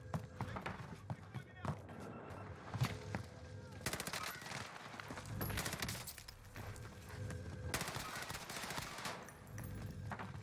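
Type 100 submachine gun fire in a battle royale shooter on Rebirth Island, bursts of rapid shots and scattered gunfire close and loud, with people talking over the action.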